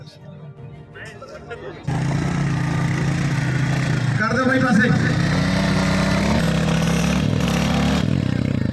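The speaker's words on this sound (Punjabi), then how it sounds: "ਥੋੜੇ ਥੋੜੇ ਮੋਟਰਸਾਈਕਲ ਆ ਜਿਹੜੇ ਉਹ ਰੇਸ ਲਾ ਰਹੇ ਆ" Motorcycles racing on sandy dune tracks in Bathinda, engines kicking in loudly after a quieter start and holding a steady, buzzing roar with some clatter, while someone talks over the noise.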